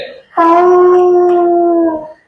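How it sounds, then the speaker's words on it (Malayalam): A single long, loud howl rises suddenly, holds a steady pitch for over a second, then fades away. "നായ്ക്കളൊക്കെ ഓരിയിടുന്ന, അല്ലെ, ഒരു ഹൊറർ അന്തരീക്ഷമാണ്"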